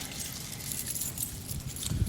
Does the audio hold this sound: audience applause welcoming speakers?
no